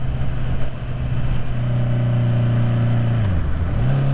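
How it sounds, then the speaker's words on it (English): Engine of a 2021 Honda CB650R motorcycle running steadily mid ride, close and loud, with its tone sagging and dipping near the end as it briefly falters and then recovers; no talking. "So that feels like the bike is trying to cut out."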